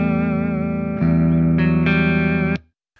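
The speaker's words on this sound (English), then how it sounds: "So that's regular mono, but when we enable the delay," An electric guitar rings out through a Line 6 Helix with a short stereo delay, sustained distorted chords struck a few times with a wide, doubled sound, then cut off abruptly.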